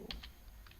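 Quiet computer keyboard typing, a few soft clicky keystrokes in an uneven sparse rhythm, close but faint, with no talking.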